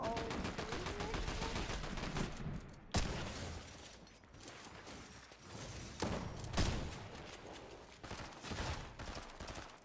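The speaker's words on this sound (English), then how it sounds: "He's shooting me." An enemy fires at the player in a video game shooter match, with rapid, continuous bursts of gunfire and sharp cracks throughout, fairly quiet in the mix.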